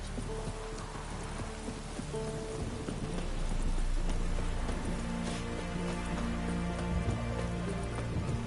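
Steady rain falls in The Witcher Wild Hunt, a continuous hiss with patter, joined by the clip-clop of horse hooves and a brief whinny in the middle distance.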